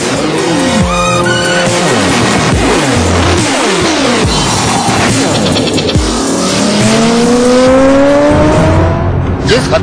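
Motorbikes of a bikers' gang doing risky stunts on Delhi roads, with engines loudly revving up and down in rising and falling whines, close and continuous, mixed with what sounds like tire squeal.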